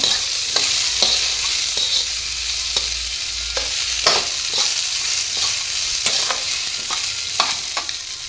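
Large-cut chopped tomatoes frying for egg salna hiss in hot oil, with spatula strokes scraping the pan at an irregular rhythm over a steady, close sizzle.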